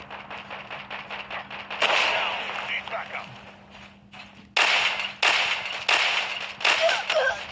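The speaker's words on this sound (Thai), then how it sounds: "โอเค ได้ปืนระเบิด" Explosive launcher fire in the Call of Duty Mobile Juggernaut mode, a string of loud blasts and thuds, several sharp bursts spaced a second or so apart over steady game noise, with someone talking over it.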